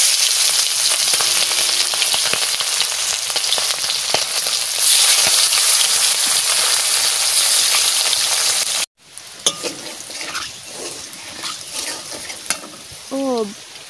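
Fish frying in a pan in a home kitchen, a steady loud sizzle with stirring that cuts off briefly, then resumes with scraping and crackling.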